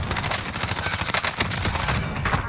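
Rapid bursts of gunfire in the video game Warzone, dense and continuous across the whole stretch, loud and close with overlapping shots.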